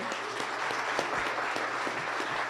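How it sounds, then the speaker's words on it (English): A short burst of steady applause from a small conference audience after a keynote, even and continuous throughout. "one more round of applause for Frank, everybody"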